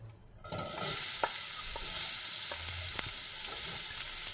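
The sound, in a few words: chopped onions frying in sesame oil in a pan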